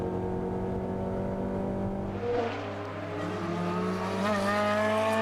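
A race car in a Lotus series at the Magny-Cours circuit drones steadily with a strong engine note, then revs climb and shift as it draws closer and passes, loud and near, with no voices.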